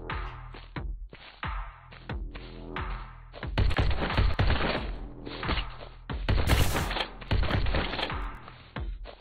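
A weapon fires in the video game To Hell with Hell, with rapid bursts of punchy, thudding shots in repeated volleys, loud and close, with no voices over them.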